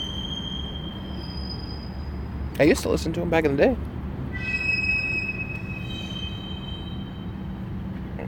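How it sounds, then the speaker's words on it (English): A passing train rumbles steadily at a distance, its wheels giving off high, thin squealing tones that run through the clip, with a voice talking briefly over it partway through. "Y'all hear that motherfucking train? Squeak! Squeak!"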